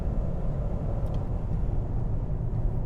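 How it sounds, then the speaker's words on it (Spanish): Inside the cabin of a Nissan Qashqai e-Power hybrid at full throttle, a muffled, steady low engine and road rumble fills the interior at a fairly quiet level. "Y este es el ruido máximo que vas a tener en el interior del habitáculo del Qashqai."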